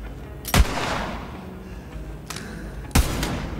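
Gunshots at a firing range in Borderlands 3, two loud sharp reports about two and a half seconds apart with a fainter crack between them, over low game ambience.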